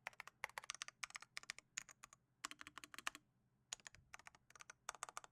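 Typing on a $50 budget gaming keyboard produces quick bursts of crisp, clicky keystrokes in uneven clusters with short pauses between, close and clear.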